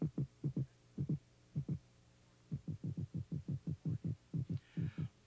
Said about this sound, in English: uses a loud drumming to declare territorial rights around his selected nesting site